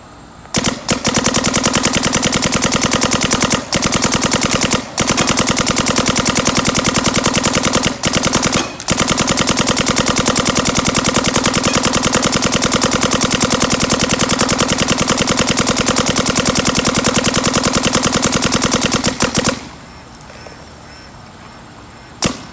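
A used Planet Eclipse CS1 paintball marker fires long, rapid bursts of shots, a loud continuous mechanical rattle broken by a few short pauses, stopping near the end.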